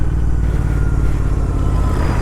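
Royal Enfield Interceptor 650 motorcycle with a PowerRage full exhaust system being ridden in fourth gear, a loud, steady, close engine drone with a rumbling low exhaust note and rushing wind noise, no voice heard.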